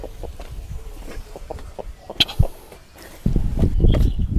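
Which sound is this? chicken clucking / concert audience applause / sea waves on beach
chicken clucking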